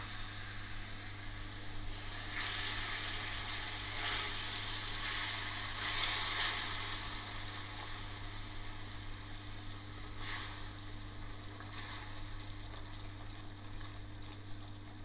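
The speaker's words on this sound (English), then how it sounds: "Add half of the base gravy, mix through and fry for another couple of minutes." Mango chilli chicken frying in a pan with base gravy in British Indian restaurant style, a continuous bubbling sizzle that swells in a few louder bursts early on and then settles, with a low steady hum behind.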